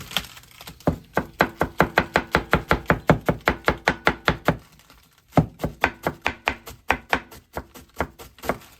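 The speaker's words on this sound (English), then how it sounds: "Slice the cabbage." A knife slices through cabbage on a cutting board in rapid, evenly spaced thuds, a long run of crisp chops that pauses briefly and then picks up again at the same steady pace.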